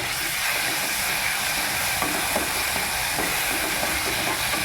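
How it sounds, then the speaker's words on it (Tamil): Tomatoes sauté in a pan for a drumstick curry, giving a continuous, even sizzling hiss that holds steady and fairly loud throughout, with no pauses. "தக்காளி போட்டு நல்லா வதங்க விடுவோம்"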